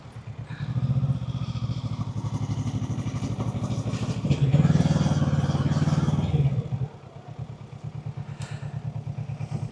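A motorcycle rides through heavy city traffic with its engine pulsing at close range. The pulsing swells into a louder rev in the middle, then drops back to a lower, steady chug.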